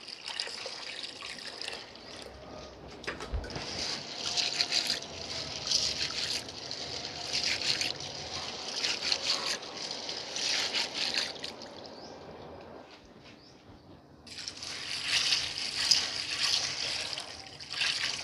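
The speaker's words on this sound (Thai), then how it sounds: "จะนำถั่วดำเนี่ยมาล้างให้สะอาดดีเลยนะคะ" About half a kilo of black beans is rinsed under running water, a steady close trickle and splash that dips briefly before resuming more strongly.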